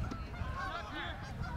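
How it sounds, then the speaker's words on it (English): Geese honk while flying over an outdoor high school soccer match, a steady cluster of nasal calls mixed into broad background noise over a short stretch. "There's geese flying."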